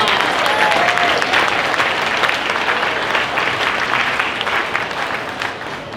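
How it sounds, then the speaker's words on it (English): Loud, sustained applause from a crowd at a fair queen and princess coronation, steady clapping that fills the whole stretch without letting up. "Let's give them a round of applause."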